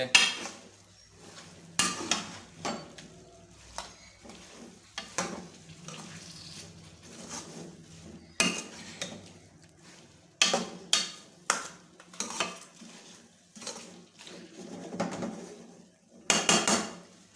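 A utensil stirs mutton and cluster beans (gawar phali) in a metal cooking pot, giving repeated scrapes and clanks in irregular bursts over a low simmering sizzle, close up and without talk.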